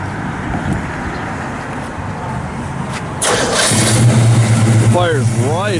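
A 1965 Pontiac GTO with a 389 Tri-Power engine cranks, fires up and settles into a loud, rumbling idle up close, with a voice speaking as the starter turns.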